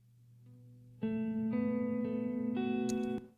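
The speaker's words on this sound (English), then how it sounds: "Obviously, there's a bunch of reverb on it." A clean guitar intro of sustained, ringing chords swelling in with a heavy wash of reverb, each chord blooming and lingering, ending in a bright shimmer.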